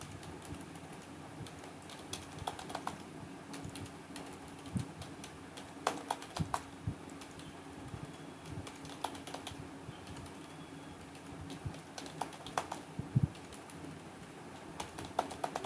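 Steady clatter of keystrokes on a computer keyboard as HTML header tags are typed, sounding close and continuous for the whole stretch with no voice.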